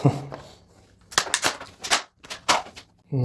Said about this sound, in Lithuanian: Išpakavimas